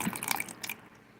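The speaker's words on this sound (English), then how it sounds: "Just add the water to it." Water is added to a pot, a short close splash and drip of liquid that lasts under a second and then goes quiet.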